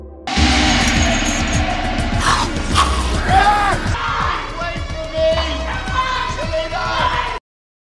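Frightening scream in a horror film scene, with loud yelling and shouting voices over crashes and thuds, intense and continuous before cutting off abruptly at the end.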